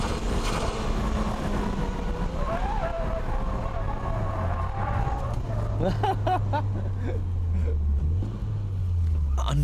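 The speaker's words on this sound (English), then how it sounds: "Okay, shall we try this dynamic drifting?" A race car drifts through a third-gear 100R corner at Ebisu, its engine note rising and falling in pitch with tire noise over a continuous loud roar, while a voice talks over it.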